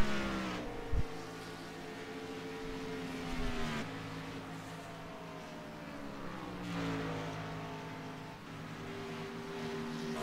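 Stock cars roar past one after another during a race, each engine note rising and then dropping as it sweeps by, with a steady background engine drone between the passes.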